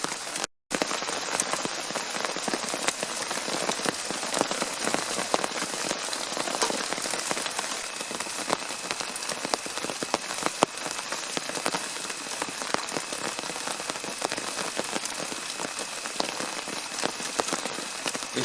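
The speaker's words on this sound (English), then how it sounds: "It's raining, a little bit of breeze blowing" Steady rain patters on a taut tarp over a hammock during a spring thunderstorm in Florida, a dense continuous drumming of drops with no voices.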